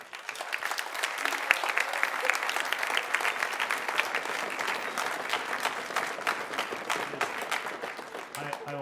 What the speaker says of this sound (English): students, I'd appreciate if you could help me recognize them too and applaud